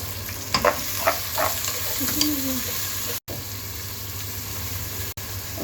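Onions frying with duck meat in a pan, a steady broadband sizzle that runs throughout, punctuated by a few short stirring scrapes near the start.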